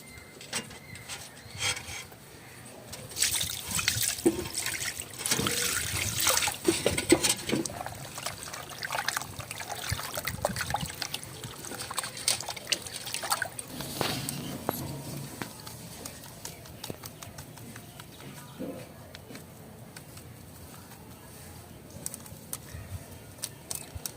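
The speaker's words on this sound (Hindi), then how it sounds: "अब हम इसे पानी डाल के धो लेंगे।" Water is poured over chicken pieces to wash them in a village kitchen, giving a continuous trickling and splashing with rubbing and handling noises. The sound is fairly close and moderate in level, with no talking.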